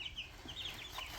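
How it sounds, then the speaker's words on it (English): Young chicks almost three weeks old give soft, high clucks and peeps in the background, a short scatter of faint calls over a low room rumble. "I'll show you what my chickens look like. You can probably hear them in the background."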